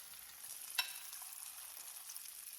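Bacon strips and slices of cheddar cheese frying in a pan give a faint, steady high crackle with a brief sharper pop near the start. No one speaks.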